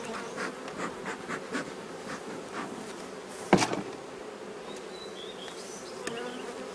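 Honeybees buzzing around an opened beehive being smoked by a beekeeper, a continuous nearby hum with individual bees droning past, plus a sharp knock or clack partway through.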